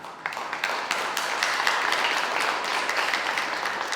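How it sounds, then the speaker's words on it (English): An audience applauds after a speaker at a Polkadot DeFi conference talk, a steady wash of many hands clapping close and moderately loud for several seconds, with no talking. "let's first give a round of applause for Cassidy"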